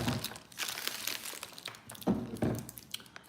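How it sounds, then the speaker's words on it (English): Caramel candies being unwrapped in a home kitchen, with close, irregular crinkling and crackling of wrappers in short bursts. "I've got to unwrap my caramels"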